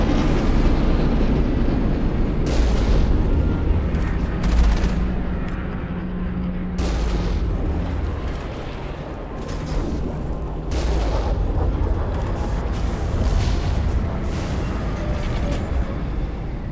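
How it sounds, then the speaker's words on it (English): Weapon fire from the Mako vehicle in Mass Effect, a rover-like vehicle fitted with a cannon and a gun: repeated heavy booming blasts with sharp shots between them over a constant rumbling background, with no talking. "This is the Mako. It's just a little like Rover, but it's got a cannon and a gun on it."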